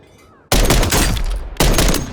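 Two loud, close sniper rifle shots in MWIII Warzone, each a sharp blast followed by a long booming tail, about a second apart, with no talk.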